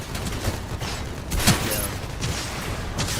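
Gunfire crackles through a competitive team video game match, with scattered shots and a sharper burst in the middle, mixed under a dense game soundscape and faint commentary.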